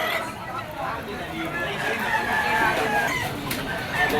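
A yellow-legged bull stag rooster crows at the Malabon pet market amid clucking fowl, the crowing partly buried under nearby talk and market chatter.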